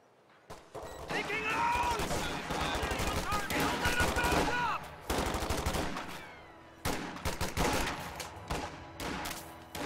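Machine gun fire in a multiplayer real-time strategy war game with infantry battling over houses, dense loud bursts of rapid shots over several seconds with brief pauses and overlapping battle noise.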